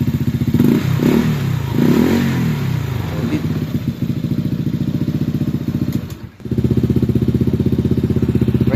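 Honda PCX160 scooter fitted with a JVT V3 exhaust pipe at its quietest setting, idling and revving up close with a throaty, pulsing rumble, briefly dropping off before picking back up, with a voice speaking over the start.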